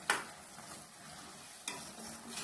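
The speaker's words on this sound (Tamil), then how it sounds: "இதை அப்படியே நல்லா கலந்து விட்டுக்கோங்க" Stirring bottle gourd kootu in a pan, a utensil scraping through food over a steady sizzle, with two sharper strokes standing out.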